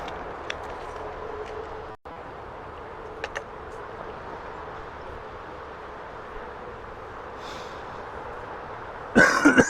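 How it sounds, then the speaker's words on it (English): A person coughs in a short cluster of sharp bursts near the end, after a long stretch of quiet room tone with a few faint clicks. "cough."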